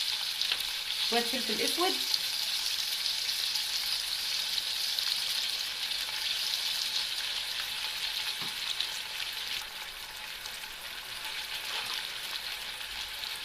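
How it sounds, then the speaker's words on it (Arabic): Pieces of heart sizzle and fry steadily in hot oil for Egyptian-style offal, a continuous close crackle with a brief stirring clatter near the start and a voice speaking over it. "نزلت على الزيت بتاعي بالقلب"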